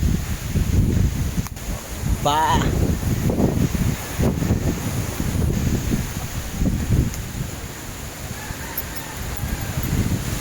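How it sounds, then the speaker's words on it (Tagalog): Strong outdoor wind roars steadily as broad rumbling buffeting across the microphone throughout, with a brief bird-like chirp early on and a short spoken syllable. "Grabe ang hangin mga kamaray."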